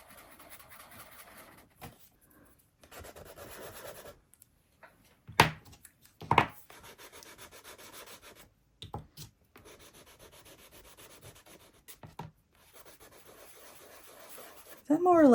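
Soft pastels are swatched on paper, making soft intermittent rubbing and scratchy scraping strokes, close up, broken by pauses and a few sharper marks.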